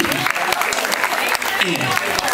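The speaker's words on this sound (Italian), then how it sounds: "Ancora un applauso, grazie mille." An audience at an outdoor summer show in Marina di Camerota claps in a dense, sustained burst of applause, with a voice speaking over the crowd.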